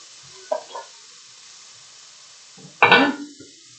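Potatoes and carrots drop into a hot pot of beef stew, sparking two short sizzling bursts, a small one and then a louder, longer one, separated by quiet.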